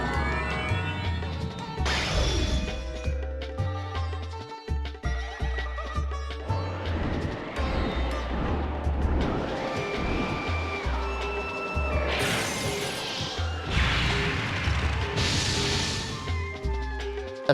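A water breath attack called Water Spout in Breath of Fire 4 unleashes crashing, whooshing impacts over busy game music, with bright bursts of spray-like noise swelling twice near the end.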